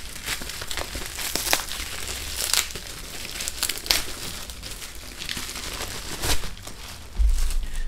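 Plastic and paper packaging of a GameSir G4 Pro controller being unwrapped, with close crinkling and tearing in irregular bursts and a few louder handling bumps, no talk.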